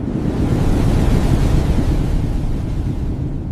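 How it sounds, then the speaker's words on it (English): Strong wind gusting in a continuous, loud broadband roar with heavy low rumble, steady throughout with no voices. "The wind is so strong."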